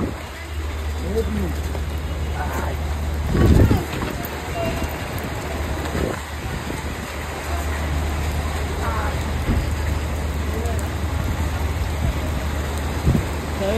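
Rain patters steadily over a low engine rumble during a road trip, with a few louder thumps and bursts of nearby activity.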